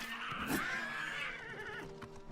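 In the video game Oblivion Remastered, a horse under attack gives one loud, shrill whinny that falls in pitch, set against a dense, noisy game soundscape.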